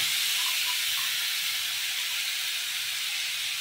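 Beetroot tipped into a hot frying pan sets off a steady, bright sizzle that hisses evenly throughout at moderate loudness, with no talking.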